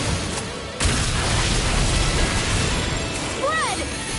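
Explosion attack effect in the PS5 game Tales of Arise, a loud broadband burst with sustained rumbling crackle lasting several seconds, with a brief pitched magical chime near the end.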